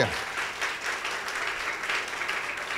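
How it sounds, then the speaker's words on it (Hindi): A church congregation claps loudly during a Hindi worship service, a dense, steady wash of applause lasting a few seconds without a break. "जोर से तालियां बजाइए"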